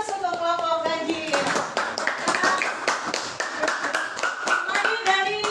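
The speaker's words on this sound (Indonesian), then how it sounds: "tepuk tangan untuk kelompok ganjil" A classroom of children claps for the odd-numbered group, with brisk, uneven applause running for the whole stretch and voices mixed in under the clapping.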